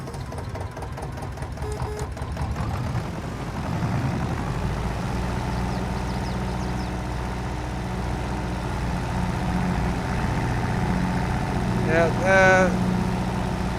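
A 35-horsepower tractor engine in Farming Simulator 22 hums steadily at idle with a low, even drone throughout, a brief mechanical clatter near the end, while someone says a word over it.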